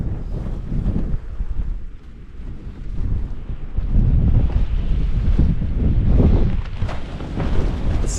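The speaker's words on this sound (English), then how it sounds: "Still really gusting out there." Strong gusting wind in the mountains at a dog's campsite buffets the microphone in loud, rumbling surges that swell and ease without pause.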